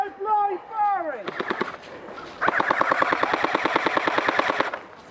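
Airsoft guns firing during a team attack skirmish: short bursts early, then a long, steady run of rapid shots close by, with a voice heard briefly at the start.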